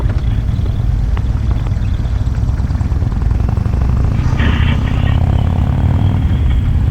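A motorcycle engine drones steadily and loudly throughout a ride, with a low, continuous rumble and wind noise and no clear speech.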